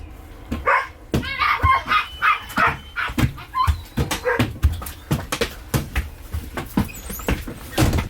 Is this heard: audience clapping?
no